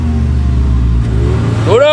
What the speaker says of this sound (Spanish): Este carro está stock de escape. Solamente le cambiaron las punteras, entonces suena stock.